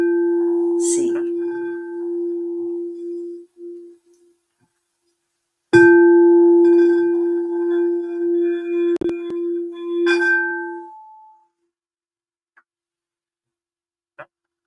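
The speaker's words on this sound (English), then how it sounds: "I actually have a crystal bowl, and I'll show you that here right now." A crystal singing bowl tuned to C is struck and rings with a steady sustained tone that fades, then is struck again and swells back, sounding close and clear with no talking over it.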